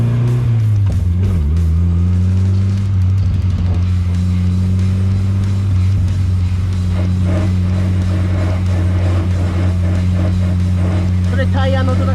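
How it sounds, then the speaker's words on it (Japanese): A Nissan Silvia drifting, its engine droning loud and steady with sustained tire roar and scrubbing, while a person talks over it. "それタイヤの音だから気にしないで"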